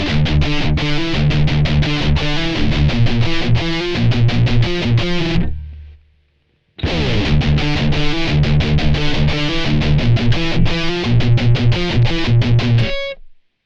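An electric guitar plays through a Blackstar ID:CORE40 V4 modelling combo amp set to heavy metal distortion: loud, tight chugging riffs in a driving rhythm, a brief silent gap midway, then the riffing resumes.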